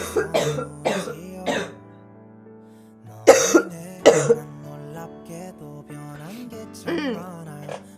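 A girl with a cough coughs in several harsh bursts, a pair early, then a louder cluster after a brief pause and a few more toward the end, close and clear with no talk.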